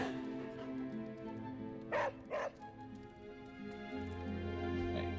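A dog named Charlie in Marvel's Midnight Suns gives two quick yips close together over a faint background of game music.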